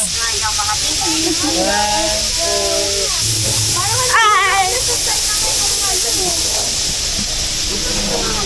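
Water pours steadily over blocks at the Dubai Marina fountain, a constant loud hiss and rush throughout, with a person talking over it.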